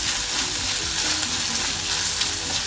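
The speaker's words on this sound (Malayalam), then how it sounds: "എന്നിട്ട് നന്നായൊന്ന് വഴറ്റി യോജിപ്പിക്കാം." Sliced onions for a Kerala-style prawn and drumstick curry sauté in a pan, a dense, even sizzle at close range with faint stirring textures underneath and no speech.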